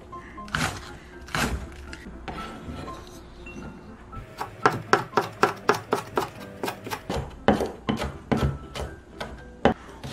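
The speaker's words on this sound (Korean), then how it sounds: "파는 조금 큰 크기로 송송 썰어주세요" A knife chops green onion into fairly large rounds on a cutting board, with a few separate early strokes and then a quick, steady run of crisp, close taps.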